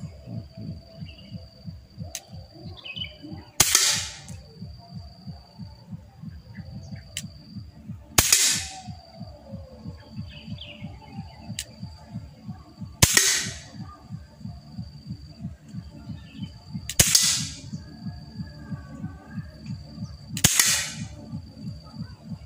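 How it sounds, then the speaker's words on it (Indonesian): A Beretta M84 airsoft pistol fires five sharp, loud shots outdoors at uneven intervals, each a crisp crack standing out above a steady low throbbing hum. "Sekalian kita lihat bunyi dari M84 nih kalau di area outdoor itu seperti apa ya."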